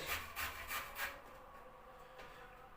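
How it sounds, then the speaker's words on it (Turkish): Carrot rubbed against a grater in quick, rhythmic rasping strokes, about four soft scrapes close by, then fading to a quiet hiss. "Havucumuzu böyle rendeliyoruz arkadaşlar güzelce."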